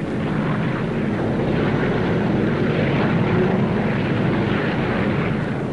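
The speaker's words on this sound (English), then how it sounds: "Plane after plane." Propeller transport planes of the Berlin Airlift fly in, a loud, steady engine drone and airscrew roar holding without a break.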